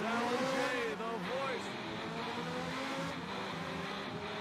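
A Ferrari 355 engine revs in a Dreamcast racing game at Suzuka, its shifting engine tones sustained throughout with a steady roar and pitch sweeps, while music or voices sit under it.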